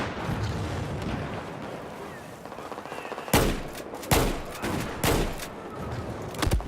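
Shotgun fire in the video game Battlefield 4: several sharp, loud blasts spaced roughly a second apart stand out over a noisy background of battlefield rumble.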